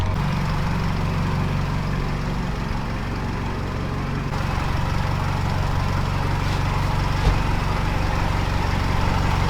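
A truck engine ticks over at idle for several seconds, a steady low-pitched rumble heard nearby with a small change in tone partway through and a brief knock near the end, with no voices.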